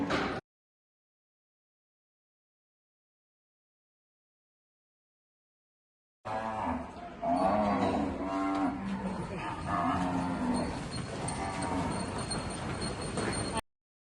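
Cows released into a farmyard come in to eat watermelon, with several loud, close moos and cattle bellowing, after a brief sound at the start and a long stretch of silence.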